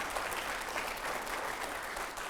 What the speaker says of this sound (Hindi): जोरदार तालियां हो जाए जरा एक बार।